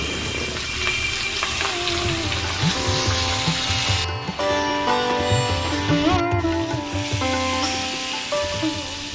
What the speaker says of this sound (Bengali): চিংড়ি মাছগুলোতে নুন হলুদ কাশ্মীর লঙ্কা ভালো করে মেখে মেখে ভেজে তুলে দিলাম